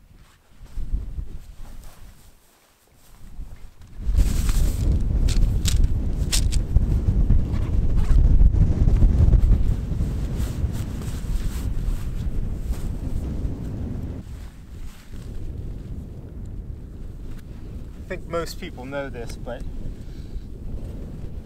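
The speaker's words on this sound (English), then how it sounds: "even though it's not super windy today, we are getting some gusts" Wind gusts buffet the microphone at a mountain campsite while a tent is being set up, as deep, rumbling blasts that swell and hold for several seconds, with a person talking briefly at the start and end.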